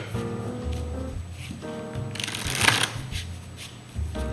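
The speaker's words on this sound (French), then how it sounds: "on va mélanger le jeu pour être sûr qu'il n'y ait pas de triche possible" A deck of playing cards being shuffled for a poker game, with a steady riffling rustle that builds into a louder burst, close and clear, with no voices.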